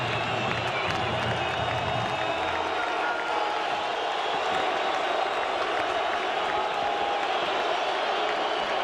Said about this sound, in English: here comes the crowd in Fresno State